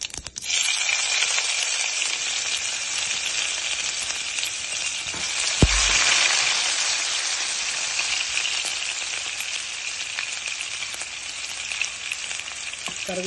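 Onions frying in ghee for sambar after the mustard seeds, a loud, continuous close sizzle with one brief knock of a spoon or pan midway, no voices.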